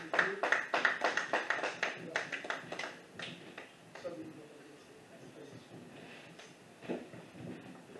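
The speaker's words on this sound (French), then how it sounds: "Nous applaudissons pour cette parole que nous avons écoutée." A church congregation applauds during a Sunday service, a dense burst of clapping that is loud for the first three seconds and then fades. A quieter spattering of claps continues beneath faint murmuring after that.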